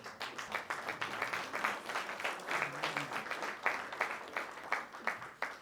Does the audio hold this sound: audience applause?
yes